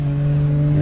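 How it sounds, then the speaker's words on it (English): A steady engine drone from road traffic passing nearby, with a strong low hum that holds constant through the whole short stretch and has no gaps. "sorry about the traffic noise"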